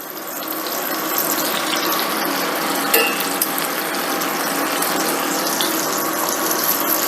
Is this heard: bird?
no